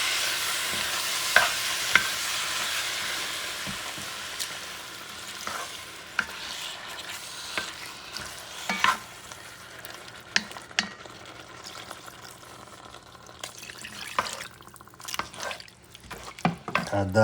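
A spoon stirs a Louisiana-style gumbo mixture with sausage, chicken and shrimp in a pot. Steady sizzling sits under repeated scraping and clacking strokes that grow busier toward the end, with no voice.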